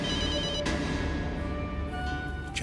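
A telephone rings in a Hindi TV horror drama serial, a steady electronic ringing tone holding for a few seconds at moderate level with no speech over it.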